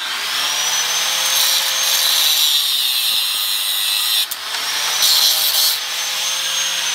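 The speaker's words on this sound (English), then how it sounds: "So I'm going to use an angle grinder." An angle grinder cuts off the excess length of a bolt on a homemade light spear, a loud, steady high-pitched whine with a short dip near the middle before the cut resumes, heard alone with no talking.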